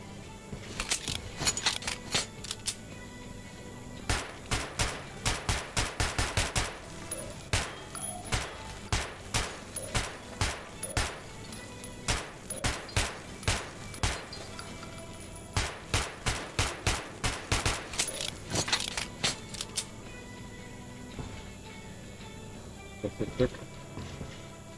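Rapid bursts of gunfire at an underground shooting range in Metro 2033 Redux, with dense volleys and single shots in uneven runs that stop briefly and then resume, loud and close, with a short quiet gap near the end.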